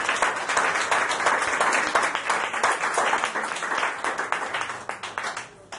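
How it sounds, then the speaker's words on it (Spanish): Church congregation applauding during a Sunday morning service, steady dense clapping from many people that slowly tapers off, with some voices underneath. "¿Por qué no le da un fuerte aplauso al Señor en esta mañana?"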